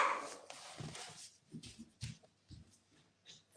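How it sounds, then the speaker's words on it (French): A dog barking indoors, a series of short, fairly faint yaps in an irregular rhythm, spaced roughly half a second apart. "C'est qui jappe comme ça?"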